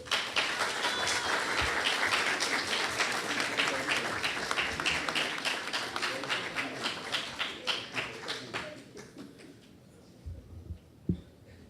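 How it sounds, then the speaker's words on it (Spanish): Audience applause at a disaster risk reduction event, a dense, sustained clapping that gradually thins into scattered individual claps and fades, with a few faint sounds afterward. "Vamos a recibirlo con fuertes aplausos"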